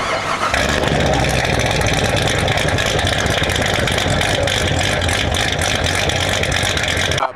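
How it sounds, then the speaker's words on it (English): A race car engine idles loudly with a choppy cam lope on its old tune, the uneven pulses running continuously close by. "So here's the first chop with the old tune."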